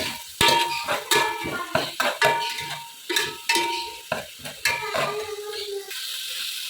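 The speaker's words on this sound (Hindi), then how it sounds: "तो इसको हम अच्छे से भून लेंगे।" Okra (bhindi) frying and being stirred in a pan: a rapid series of close, bright spoon clacks and scrapes against the metal over a light sizzle, with a brief faint voice late on.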